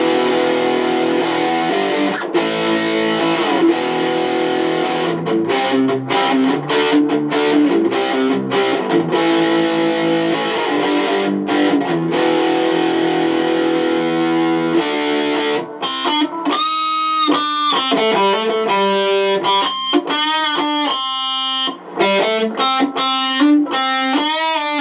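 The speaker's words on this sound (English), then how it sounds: "Alright, the Fangs distortion pedal." Electric guitar from a 2022 Epiphone Les Paul Jr played loud through a Fangs distortion pedal, first sustained dense distorted chords, then choppier strummed chords and riffs with abrupt stops, alone with no talk.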